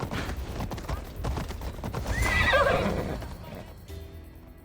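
Hades' special horse in Assassin's Creed Odyssey gives a loud, close whinny over clip-clopping hooves, the neigh rising and falling before the sound cuts off near the end.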